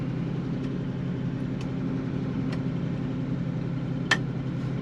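A 1968 Pontiac Firebird Sprint with its rare overhead-cam six-cylinder engine drones steadily on the road while cruising, a continuous low engine hum with a few faint ticks, recorded from a bumper-mounted microphone.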